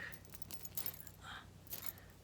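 Keys jangling on a key ring in a quiet indoor space, a few light metallic clinks and rattles close by, heard alone without talk.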